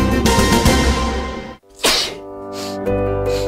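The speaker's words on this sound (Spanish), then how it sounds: "Al estornudar y toser," A single sharp, explosive sneeze bursts out after a moment of near silence, close and loud.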